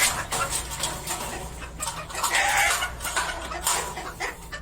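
Chickens cluck in close, irregular bursts around a backyard feeding spot, with continuous low rumble beneath and occasional brighter squawks rising over it.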